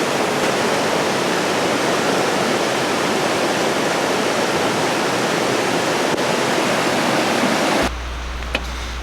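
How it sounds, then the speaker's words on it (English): A waterfall in Uvita, Costa Rica, roaring as a loud, dense, unbroken wash of water that cuts off abruptly near the end, leaving only a low rumble. "I wanna give you guys one good look at the waterfall."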